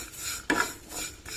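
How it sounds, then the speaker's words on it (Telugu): Mustard seeds and dried curry leaves crackling in hot oil during tempering for a cluster bean fry, a soft brief sizzle with a louder burst of spattering in the middle, no talking. "చూడండి, ఇప్పుడు చిట్టపట్ట వేగిపోతున్నాయండి."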